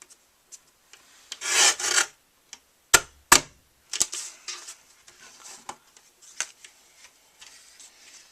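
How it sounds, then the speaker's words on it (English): A damp watercolor paper panel is trimmed by a quarter inch, giving short scraping and rasping cutting strokes with sharp clicks and taps between them, close and fairly quiet. "I'm going to cut 1/4 inch off so that it's 4 across and not 4 1/4."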